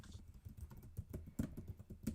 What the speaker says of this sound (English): Sorry, I was typing something there.